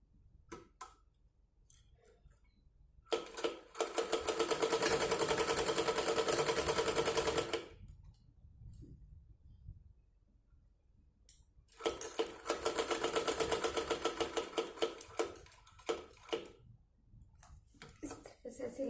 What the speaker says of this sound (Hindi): ये जो हमने नेट लिया है, अब हम उसे कपड़े पे सिलाई करेंगे